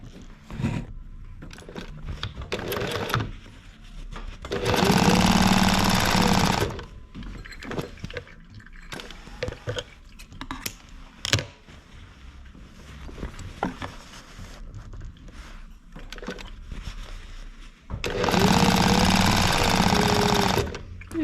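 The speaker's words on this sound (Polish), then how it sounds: "Teraz wystarczy dokończyć tutaj te szycie" Sewing machine stitching a foam camper mattress cover, two loud bursts of rapid mechanical chattering separated by quieter handling noises and rustling of fabric, close by.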